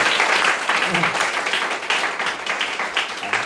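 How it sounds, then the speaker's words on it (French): Church congregation clapping and cheering in praise, rhythmic applause with some voices mixed in, loud and close throughout. "Applaudissons, acclamons pour la gloire de notre Seigneur."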